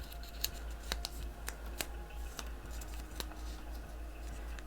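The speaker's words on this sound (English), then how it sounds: "I fold it 3 times, and I make sure that I'm folding it towards myself 3 times" A sheet of paper bearing a written intention being folded three times by hand, heard as a few crisp, close creasing crackles spaced apart over a faint steady hum.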